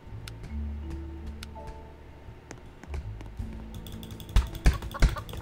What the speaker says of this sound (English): I can hear your mouse clicks